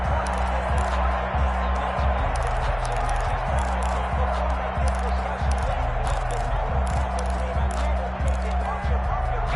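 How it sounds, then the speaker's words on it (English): A football stadium crowd at a Baltimore vs Philadelphia game keeps up a steady, broad roar of cheering, with a commentator talking over it throughout. "the crowd getting into it as we come up on a big 3rd down"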